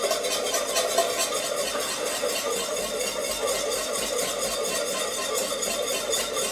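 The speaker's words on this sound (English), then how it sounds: "So I just get it stirring." Melted raw vegan chocolate mixture with scraped Madagascan vanilla bean is stirred steadily in a bowl, giving a continuous soft swishing wash at an even level with no pauses and no voices.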